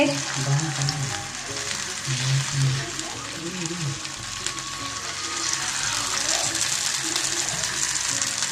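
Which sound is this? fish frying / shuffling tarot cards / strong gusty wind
fish frying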